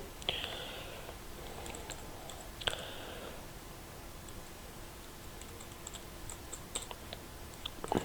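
Computer keyboard keys clatter in short bursts of typing while a test question is entered in a quiz-making program, followed by sparse isolated clicks against a quiet room hiss.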